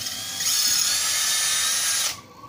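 A handheld power drill bores holes, a loud steady high whine of about one and a half seconds that stops abruptly, with no talking.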